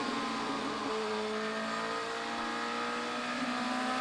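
René Rast's DTM race car at Assen in 2019, heard from onboard during qualifying while weaving to warm its Hankook tyres: a steady, loud engine drone with shifting tonal lines, continuous throughout.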